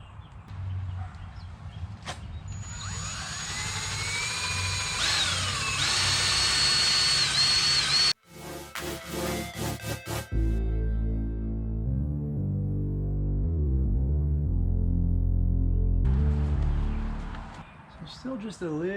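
A power drill with a buffing pad polishes a plastic car headlight, its high motor whine running steadily for several seconds, then dropping to a lower pulsing hum as someone talks over it.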